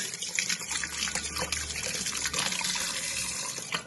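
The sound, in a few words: washing korameenu fish under running water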